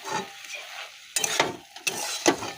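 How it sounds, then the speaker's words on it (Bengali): Vegetable curry of raw tomato, flat beans and potato with a little mustard paste, cooking on a gas stove turned low; a soft bubbling simmer with a few louder stirring or scraping bursts, close and alone. "এই যে তরকারি বসিয়ে গেছি, বুঝেছো, গ্যাসটা একদম সিম করে দিয়ে গেছি।"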